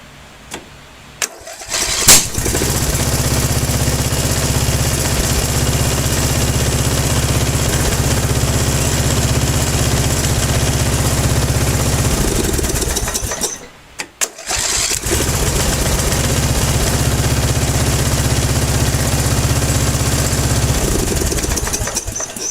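A Briggs & Stratton small engine cranks over briefly, catches and runs at a steady loud drone, cuts out for a moment, then restarts and runs steadily again, close by with no talking.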